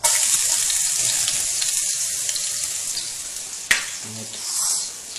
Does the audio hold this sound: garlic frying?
yes